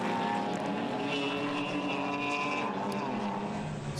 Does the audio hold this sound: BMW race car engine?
yes